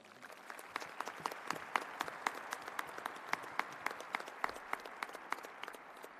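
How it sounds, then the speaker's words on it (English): Audience at a Lutheran high school graduation ceremony gives a round of applause for a late student's family and friends, a soft, distant hall full of clapping with a few crisp nearby claps punctuating it. "so give them a round of applause."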